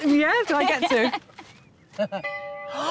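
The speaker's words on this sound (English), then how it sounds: "I'm assuming that is the doorbell." A doorbell chimes in a church converted into a home, a few clear ringing tones sounding after and between people talking nearby.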